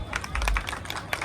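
An audience claps at a vada pav shop event, a brief patter of scattered, uneven hand claps with voices mixed in.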